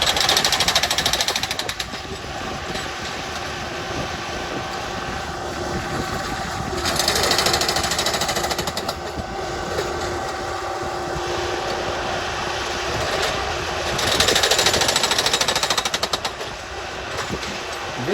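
A Nordco Production Spike Driver, also called a CX Hammer, drives spikes into a railroad track with about 2,200 pounds of force, giving rapid mechanical hammering over a steady engine drone, with louder bursts that come and go.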